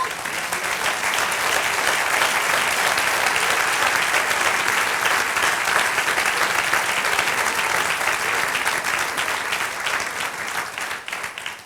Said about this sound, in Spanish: Sí, da el aplauso.